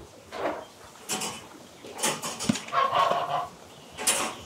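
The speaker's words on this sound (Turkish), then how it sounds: "Bunlar 5 tavuğu, tokat tavuğu da diyorlar." Soft clucking from a small flock of Tokat hens on a village farm, a few short calls scattered across the clip, with faint rustling and movement nearby.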